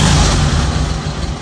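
A Volkswagen Beetle engine idles right after starting, a loud, steady, close-up low rumble with a slight unevenness and no talk over it.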